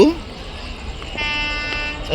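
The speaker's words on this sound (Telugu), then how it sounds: "రెండు ట్రైన్స్ వస్తున్నాయి" Two trains rumble close by, then a long steady horn blares over the clatter of the passing cars.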